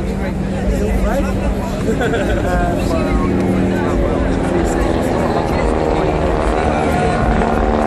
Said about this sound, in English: Bruce again on the tail of the Sopwith and the wing wave as the Great War team are making their final fly past.